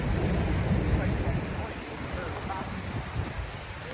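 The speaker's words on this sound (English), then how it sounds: "It's raining." Steady rain pours down in a constant, dense hiss with low rumbling underneath, continuous throughout and fairly loud.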